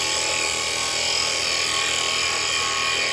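A square chisel cuts a recess into a wooden bowl spinning on a wood lathe, giving a constant, fairly loud broadband whirr and scraping rush with no pauses.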